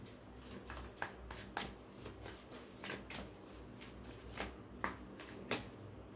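Tarot cards being shuffled and drawn make soft riffling and a series of crisp slaps and flicks spaced about half a second apart, quiet and close.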